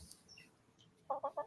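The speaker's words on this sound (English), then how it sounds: "you got quite a few chickens" Backyard chickens clucking: three quick, clear clucks close by, following a quiet stretch of faint chirps and ambient noise.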